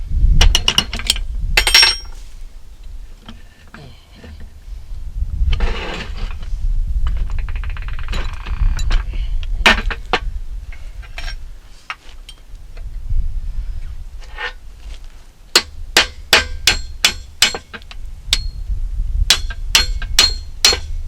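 Hammer blows on a steel punch driving a shaft out of a New Holland 56/256 rake gearbox, sharp metallic strikes at close range, some in quick repeated clusters, with grinding and shifting metal between them.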